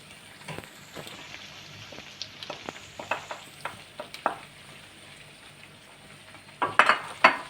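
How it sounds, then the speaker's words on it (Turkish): Green peppers frying in a pan of saç kavurma with tomato paste, giving a low steady sizzle broken by sharp crackles and pops, with a louder burst of spattering near the end; no voices. "Şimdi sırasıyla biberlerimizi ilave ediyoruz. Yeşil biber."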